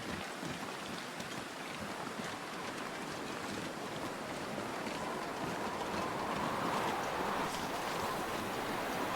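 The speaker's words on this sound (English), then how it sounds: "Getting windy." Wind gusts across the snowy wilderness of Mystery Lake in The Long Dark, a steady, broad hissing rush that swells slightly louder toward the end, heard alone.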